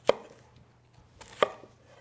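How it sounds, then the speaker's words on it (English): Two sharp chef's knife chops cutting the ends off an onion on a board, loud, close and evenly spaced about a second and a half apart, with quiet room tone between. "Let's assume you're just going to cut into an onion"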